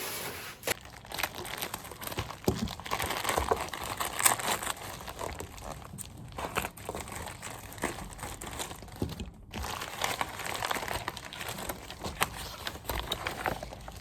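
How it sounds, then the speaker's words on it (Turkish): Delivered parcels are opened up close, with plastic packaging crinkling and rustling continuously and occasional sharper tearing and crunching handling noises, with no talking. "şöyle iki tane daha kargom vardı. Bunları da açalım."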